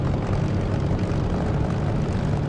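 Propeller aircraft taxiing toward the runway centre in the DCS flight simulator with a touch of throttle, a steady droning engine hum with a low rhythmic buzz, constant and close, no voices.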